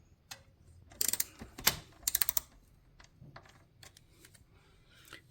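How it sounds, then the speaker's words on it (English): A 5mm Allen wrench turns a plastic bottom bracket bolt on a bicycle, giving a few sharp close ratcheting clicks and small metallic ticks in brief clusters against a quiet background. "Now we have to remove this bolt and the other one from the other side. We need a 5mm Allen wrench."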